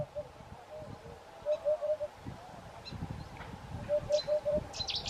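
A Eurasian hoopoe calls twice, each time a quick run of three soft, hollow hooting notes, fairly faint over a low background rumble with a few other faint bird sounds.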